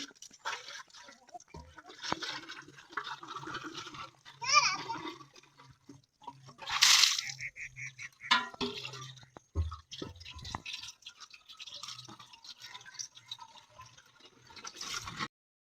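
A public water tap where two brothers come to fetch water runs and splashes in uneven bursts, close by, with quiet gaps, drips and handling noises in between and faint talk at moments.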